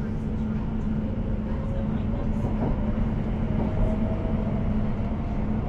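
A London Overground train on the Liverpool Street to Chingford line runs with a steady low rumble and rolling hum from inside the carriage, constant and moderately loud without clear pauses.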